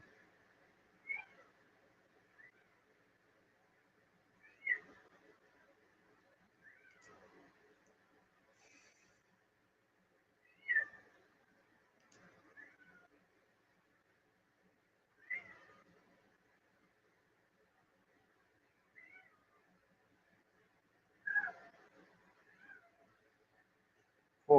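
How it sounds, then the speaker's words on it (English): A cat meows to be let in, about seven short calls spaced several seconds apart, clear and close against otherwise near-silent surroundings. "Uh-oh. Cat wants in."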